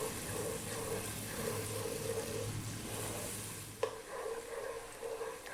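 Onions and spices frying on high heat for Arabic Bukhari rice, sizzling steadily while being stirred, with a sharp clack partway through and quieter sizzling afterward.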